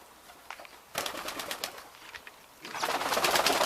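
Domestic pigeons in a garden, with rustling and fluttering bursts and a louder stretch toward the end; cooing is not distinct.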